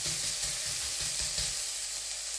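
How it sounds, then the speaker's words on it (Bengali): Chopped garlic and onion fry gently in butter and oil, giving a soft, steady sizzle with faint stirring taps, quiet and continuous throughout without any voices. "বাটার এবং তেলে হালকা একটু ভেজে নিচ্ছে"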